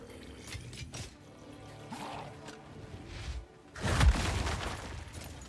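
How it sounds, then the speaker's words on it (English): Cold explosions from a rare enemy in the video game Path of Exile 2, several muffled booms and crackling bursts amid game effects, ending in a loud, heavy blast. "I face a rare enemy that has cold explosions as their special"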